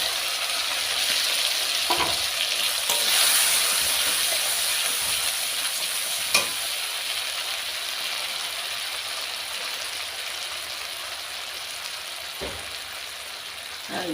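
Spice paste with kalo jeera and coriander leaves fries in oil for tangra fish curry, giving a steady close sizzle with a few faint clicks of stirring and no talking.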